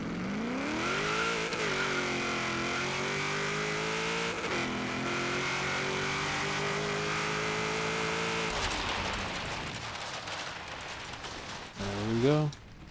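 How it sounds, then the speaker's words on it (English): A 1967 Chevrolet Corvette Stingray 427 launches in Forza Horizon 3, its engine roaring loud and steady as revs climb through repeated rising sweeps, then easing off, with a final short rev burst near the end. "And the car should launch."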